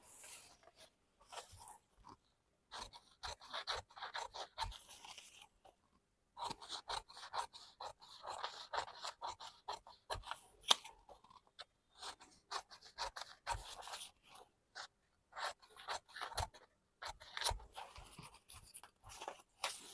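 Scissors cut through blouse fabric for a size 46 Bombay cut blouse, producing faint, close, repeated snips and scraping rasps in irregular bursts separated by short pauses.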